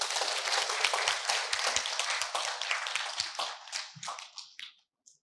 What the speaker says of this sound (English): please give Professor Emerita Datuk Dr. Azzman a big round of applause